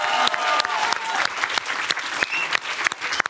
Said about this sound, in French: on peut applaudir les deux gagnants